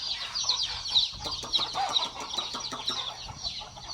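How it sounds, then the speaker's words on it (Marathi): Chickens cluck repeatedly at close range as they roam around a cattle shed on a farm that keeps cows and free-range country poultry. The short, choppy calls overlap in a steady stream, with no voices. "सगळीकडे दावणीमध्ये कोंबड्या फिरत आहेत"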